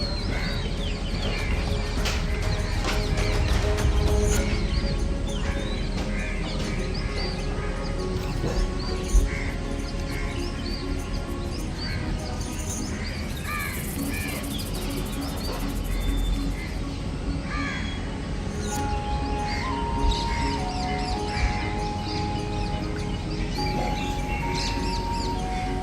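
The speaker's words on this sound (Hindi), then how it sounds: "दूर से आती पक्षियों की आवाज़" Crows cawing and small birds chirping around a Kerala houseboat on calm backwater in the early morning, with repeated calls near and far over a steady low hum of ambient noise.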